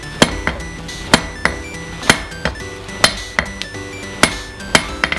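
A blacksmith's hammer strikes hot steel on an anvil while forging a leaf keychain: sharp, ringing metallic hits about once a second, each followed by a lighter rebound tap, loud and close.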